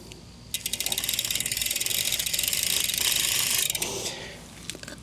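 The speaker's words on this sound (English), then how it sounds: "you can turn the chain backward like this" Bicycle chain being turned backward by hand, the freewheel giving a fast, steady ratcheting click for several seconds at close range, slowing and stopping at the end.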